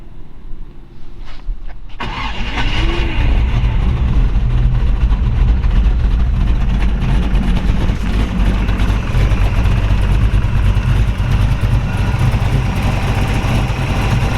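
A 1929 Ford Model A pickup street rod with a Gearstar 700R4 automatic overdrive starts, cranking briefly before firing, then settles into a loud, close, steady, rumbling idle that continues to the end.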